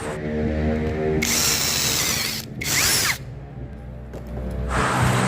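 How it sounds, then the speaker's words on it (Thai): A power drill bores a hole through a broken fan grille ring part in short bursts, the high whine rising and stopping several times over a steady low motor hum. "ผมจะเจาะรูเจาะรูตรงนี้นะ"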